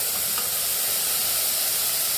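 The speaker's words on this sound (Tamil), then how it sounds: "இப்போ இதை தக்காளி ஆட் பண்ணிக்கலாம்" Tomatoes are added to a pan of browned onions and hiss with a steady, bright sizzle for a couple of seconds, with no voices.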